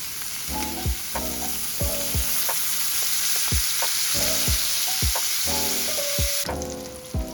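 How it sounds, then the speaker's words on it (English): Steady sizzling of homemade Spam frying in oil, with a continuous crackling hiss and occasional clinks and scrapes of a utensil against the pan. "I should have started frying the Spam with the oil"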